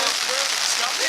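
Steady rain patters densely on surfaces nearby at the Kentucky Kingdom amusement park in winter, a continuous bright hiss with no pauses.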